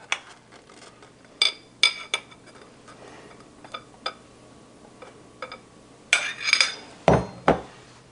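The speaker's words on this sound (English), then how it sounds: "now I'm going to go ahead and mix the wet ingredients into the dry ingredients" Wet ingredients with extra light olive oil being mixed into dry almond flour and whole wheat brownie ingredients in bowls, giving scattered clinks and taps of a utensil against the bowl, with sharper clatters near the end.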